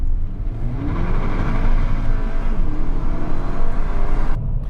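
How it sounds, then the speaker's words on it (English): A Volkswagen Golf GTI Wolfsburg Edition engine and turbo pull hard accelerating from first gear, the droning pitch climbing steadily up through the gear, loud and close with a whooshing whir. "let's get us going here again from first gear so you can hear that engine and turbo"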